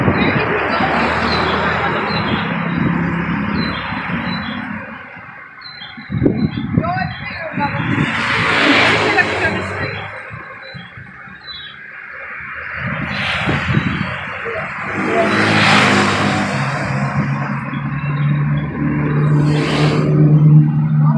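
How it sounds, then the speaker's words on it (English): Heavy rush-hour traffic on a busy street in Denpasar, Bali: a loud, continuous roar of engines with vehicles surging past, and voices talking over the din. "that's some serious Balinese traffic"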